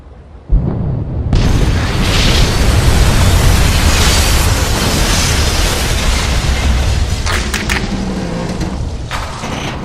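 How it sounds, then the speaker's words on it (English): A sudden deep boom as the hospital ship HMHS Britannic strikes a mine, rolling into a long, loud roaring rumble that slowly fades, with crackling debris sounds near the end. "the Britannic was rocked by a sudden and fearsome explosion"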